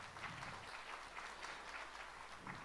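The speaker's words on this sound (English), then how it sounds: "Let's clap loud and welcome him." Applause from a conference audience welcoming a panel moderator onto the stage, a steady wash of clapping at moderate volume under a low constant hum, with no speech.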